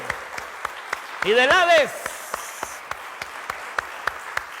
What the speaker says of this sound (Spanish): Demos un aplauso al Señor porque Él tiene las llaves de la muerte